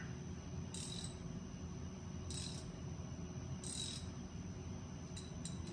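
Hand tapping threads into a cast engine port with a tap driven by a 1/2-inch socket and ratchet: short bursts of clicking and scraping recur every second or so over a steady low hum.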